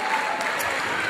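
Audience applause at a live Moldovan music concert in Rome, a steady wash of clapping from a crowd with voices mixed in throughout the short stretch.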